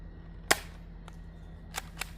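An Adventure Force Brute Pro blaster fires regular shots indoors, giving a sharp, snappy pop followed by two softer clacks, all quiet and close.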